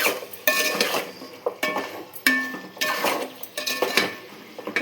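Turmeric and salt being stirred into a pot for chicken biryani made with ordinary rice: a spoon scrapes and clinks against the metal pot in several distinct bursts, close and moderately loud, with no talking.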